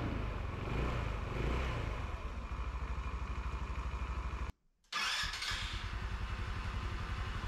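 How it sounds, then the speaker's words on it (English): A cheap, run-down Chinese scooter engine idles on its own with a rapid, uneven putter and clatter, close by, cutting out for a split second before resuming its steady chugging. "Okay, now it's idling by itself."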